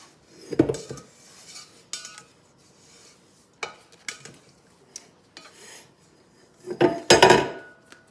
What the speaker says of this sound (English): And I scrape down the sides.